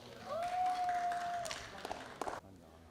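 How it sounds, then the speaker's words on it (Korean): Audience applause at a Korean humanities festival presentation event, a broad wash of clapping lasting about two seconds before cutting off, with a sustained whistle-like tone and some voices mixed in. "많은 박수 부탁드립니다."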